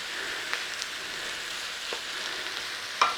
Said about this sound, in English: put your chickens in and fry until brown